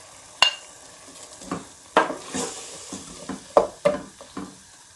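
Peeled tomatoes with salt and chili cook in a pan over a faint sizzle, while a spoon stirs and scrapes in a series of sharp, close clinks and knocks spread unevenly across the moment.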